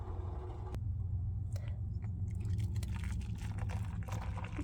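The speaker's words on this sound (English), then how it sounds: "Let's measure out a cup of hot water." Hot water poured from a kettle into a measuring cup inside a van, a steady close liquid pour running continuously throughout with a faint low hum beneath.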